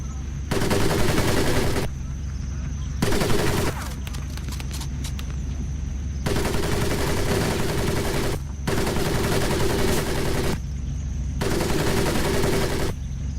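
Repeated bursts of gunfire from Medal of Honor: Pacific Assault, loud and sustained, firing in long stretches with brief pauses between them over about thirteen seconds, with occasional voices underneath.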